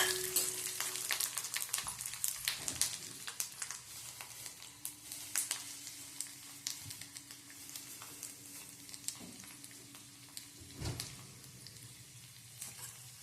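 Red chilies and garlic cloves fry in hot oil for a dosa recipe, a soft, steady sizzle broken by repeated crackles and pops and the scrape of stirring, close and quiet with no talk.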